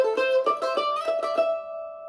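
A mandolin picks the quick melodic phrase of the fiddle tune Cold Frosty Morning, about seven crisp plucked notes in a lively rhythm, then a last note left ringing alone and clear.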